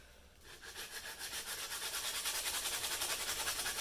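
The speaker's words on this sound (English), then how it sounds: "we'll just go ahead and clean those up real quick with the sandpaper" Sandpaper rubs smudges off a rustic wooden piece in quick, rhythmic back-and-forth strokes, a soft, close scratching that begins after a short pause and grows steadily stronger.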